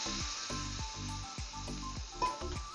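Water goes into a pan of frying spice masala for a vegetarian moong dal and cabbage dish, raising a loud steady hiss under rhythmic scraping of a spoon against the pan, no one speaking.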